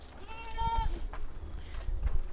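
A dairy goat on a small farm gives one drawn-out, wavering bleat close by, with farm background noise and some low rumbling around it.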